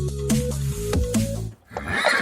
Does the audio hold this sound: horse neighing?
yes